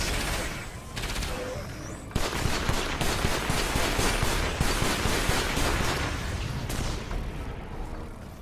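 Video game robots trade gunfire in a dense, continuous barrage of rapid shots and crackling impacts that keeps up loudly for several seconds before easing slightly near the end.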